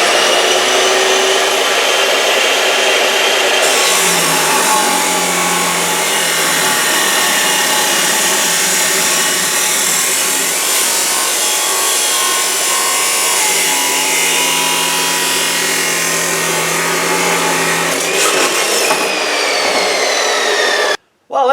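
A Milwaukee 6180-20 abrasive chop saw runs loud and steady while cutting through metal, a continuous harsh grinding roar that holds for about twenty seconds and then cuts off abruptly.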